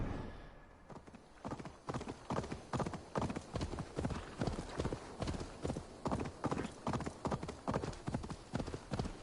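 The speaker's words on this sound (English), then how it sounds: "Guess I got a fast horse." A horse gallops in Assassin's Creed Valhalla, its hooves pounding in a fast, steady rhythm of loud, close thuds that start after a short pause and continue without break.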